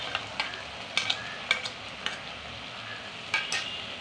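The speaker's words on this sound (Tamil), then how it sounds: "இஞ்சி பூண்டை போட்டு நல்லா பச்சை வாசனை போகிற வரையும் கிளறுங்க." Ginger garlic paste stir-fried with golden browned onions in a hot pan, a steady soft sizzle broken by intermittent sharp scraping clicks of a spoon stirring against the pan, with no talking.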